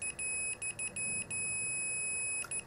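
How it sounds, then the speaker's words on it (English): A multimeter set to continuity test gives a string of short, clear electronic beeps, some broken and one held longer, close and fairly quiet with no talk. "switch that to, if you like, a continuity test, or as many like to call it, the beep test"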